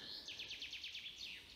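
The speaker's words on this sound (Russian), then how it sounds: "Погода, поют птицы." Birds sing outdoors at a quiet countryside farmstead, a rapid series of bright, repeated chirping notes trilling close by over soft background ambience, with no talking.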